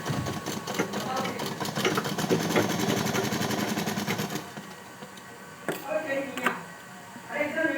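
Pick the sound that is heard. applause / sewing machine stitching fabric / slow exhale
sewing machine stitching fabric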